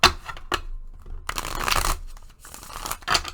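A tarot deck being shuffled in several short bursts of papery riffling and card slaps, close and fairly quiet, with brief pauses between shuffles.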